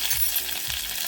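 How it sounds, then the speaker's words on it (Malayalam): Mustard seeds with curry leaves sputter in hot oil while tempering a Kerala curd carrot curry, a loud, steady sizzling crackle with dense popping and no voices. "നമ്മുടെ കടുകൊക്കെ പൊട്ടി വന്നിട്ടുണ്ട്."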